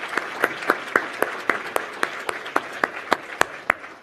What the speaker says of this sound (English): so that must mean we should give him a round of applause.